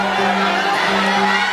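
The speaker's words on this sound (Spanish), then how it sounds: "suelta el mayor grito que usted tiene" A church congregation shouting together on a count during a worship service, a dense, loud, sustained roar of many voices with some higher whoops mixed in.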